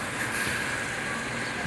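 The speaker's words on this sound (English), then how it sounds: "This train you see down here, this one here. These many trains." A train rolls past near the port of Mombasa, a steady broadband rumble of railroad wagons with a hissing upper band, continuous and fairly close for the whole stretch, with no voices.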